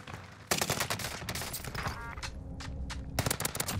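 Rapid automatic AK47 fire in Warzone on Rebirth Island rattles in loud, close bursts with short pauses between strings of shots, over a busy game background.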